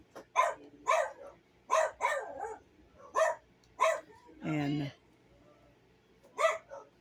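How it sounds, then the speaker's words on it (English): A dog barks at someone at the door in a home, a string of sharp, fairly loud barks spaced about half a second to a second apart, with a brief bit of speech in between. "You'll have to excuse the dog."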